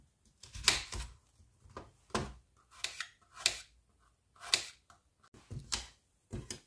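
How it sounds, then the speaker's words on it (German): A knife slices onions into rings on a cutting board, producing about a dozen crisp, separate chopping thuds in an uneven rhythm, close and alone. "Und anfangen tue ich mit den Zwiebeln. Die schneide ich in feine, gröbere Ringe"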